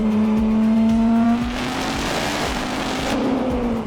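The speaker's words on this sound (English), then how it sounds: "give it another rev" A car engine revs hard from inside the cabin, a loud, rising drone that holds steady and then eases slightly as it runs on without a break, with a constant low road rumble underneath.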